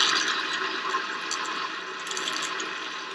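A toilet flushes in a coach's water system to purge air from the lines after a filter change, giving a steady, close rushing of water with sputtering bursts, and no voices.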